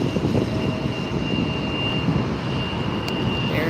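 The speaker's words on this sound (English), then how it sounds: "Next up, making the turn is going to be an Alaska Airlines Embraer 175, Alaska Horizon Flight 2052" An Alaska Airlines Horizon Embraer 175 regional jet turning on the ground at LAX, its engine roar a steady, fairly loud broadband rumble with a thin high whine running throughout, no voices.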